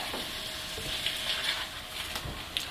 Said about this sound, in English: You're going to stir that, making sure that that masala has coated all of those pieces really well.